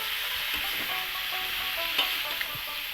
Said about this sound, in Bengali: আমি এবার একটু নাড়িয়ে চালিয়ে নেবো